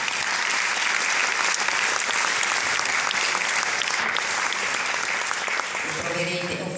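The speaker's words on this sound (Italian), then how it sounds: "Beh, un applauso per lei." Steady, dense applause from a press-conference audience at the Rome Film Festival (Festa del Cinema di Roma) fills the room, loud and sustained for several seconds before easing slightly near the end as a voice begins.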